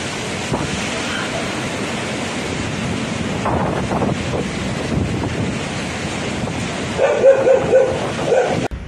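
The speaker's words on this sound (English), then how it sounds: "The port was lashed by record gusts exceeding 220 km, 137 miles per hour" Typhoon Krathon's gusts batter the port city of Kaohsiung, Taiwan, roaring as loud, continuous wind buffeting against the microphone, with a dog barking several times near the end.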